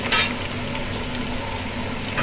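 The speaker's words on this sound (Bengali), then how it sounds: "এঁচড়টা আমার ভাজা ভাজা মতো হয়ে গেছে। এবার আমি এক এক করে সব সবজিগুলো দিচ্ছি।" Jackfruit and vegetables frying in a pan, a loud steady sizzle with a sharp burst at the start and occasional stirring noises.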